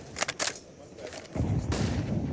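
Grenade blast and gunfire in a Counter-Strike match on the Ancient map, with a few sharp shots early followed by a longer, heavier rumble of explosion and fire.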